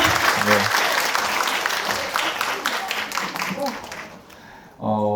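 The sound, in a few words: audience applause at book concert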